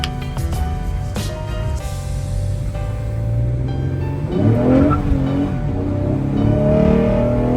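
A 2011-20 Toyota Sienna 3.5L minivan with a cold air intake drones steadily on the road, rising in pitch as it accelerates, with a low rumble throughout and no talking.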